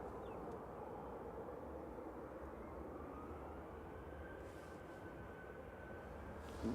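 A jet takes off at Manchester Airport on a gusty evening, a steady distant roar of engines with a faint rising tone, heard from afar over wind.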